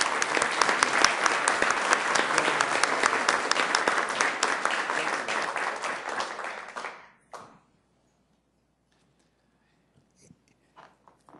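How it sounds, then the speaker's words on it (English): Round of applause at a city council meeting in Sioux Falls, a dense burst of clapping from the room that fades out after about seven seconds, followed by near silence with a few faint scattered knocks. "Let's give them a round of applause, please."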